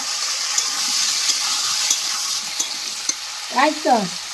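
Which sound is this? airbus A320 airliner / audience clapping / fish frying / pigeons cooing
fish frying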